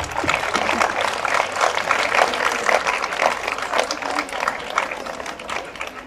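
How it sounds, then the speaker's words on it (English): A college audience claps after a student's speech at a speaking competition. Dense, steady applause fills the space for about six seconds without pause, then eases slightly toward the end. "Huge round of applause for Kanishka."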